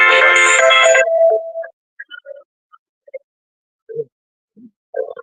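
A short burst of phone ringtone or message alert tone lasting about a second, followed by faint scattered blips and near silence.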